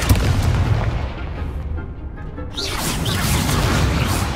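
Booming spell blasts from Confringo in Hogwarts Legacy, played on PS5, rumbling loudly through dense game combat noise, with a sharper burst midway and constant low-end rumble.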